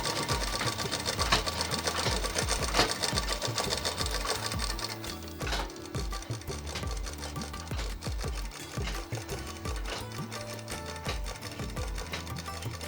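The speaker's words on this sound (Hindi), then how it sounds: "अब नीचे की धारी को हम डबल सिलाई कर लेंगे, जो डबल फोल्ड पे हमें करना है।" A sewing machine runs close by, double-stitching a double-folded hem on a frock in a steady rapid chatter that continues almost without pause, with a faint hum and light background clatter.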